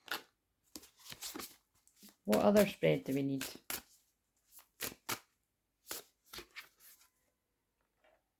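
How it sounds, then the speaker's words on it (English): A tarot card deck is shuffled in short, crisp riffling bursts close to the listener, with pauses between them and a voice speaking briefly in the middle. "I'm just going to shuffle for the next one."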